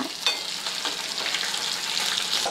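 Chicken fries in a pan for chicken curry, a steady close hiss of sizzling oil with faint stirring scrapes, continuous and even with no talk.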